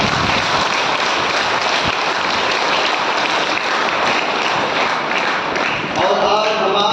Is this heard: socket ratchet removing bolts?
no